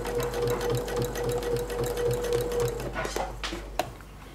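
Sewing machine stitching through a quilt sandwich of fabric and batting, with the presser foot set too high: a steady, even mechanical whir of rapid stitching for about three seconds, then a few clicks and a knock as it stops.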